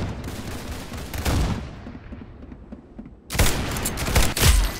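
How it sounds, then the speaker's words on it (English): Bursts of rapid gunfire in the Roblox game Arsenal, loud and close, come in a dense volley, fade into a quieter stretch, then resume with sharp, heavy shots near the end. "Very Very good shooting."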